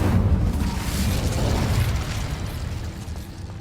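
A burst of the Incendio fire spell from Hogwarts Legacy on PS5: a loud, sustained roaring whoosh of flame with a booming low end that holds steady for several seconds before easing slightly.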